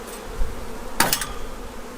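Honey bees buzzing in an open hive during a frame inspection on a warm day, a steady close drone with a brief louder burst of activity midway, no talking.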